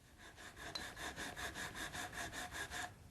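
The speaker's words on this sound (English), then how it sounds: "I'm sanding parallel with the grain with the large sanding block" A large sanding block rubs back and forth along the grain of a wooden gunstock in about a dozen steady, faint strokes.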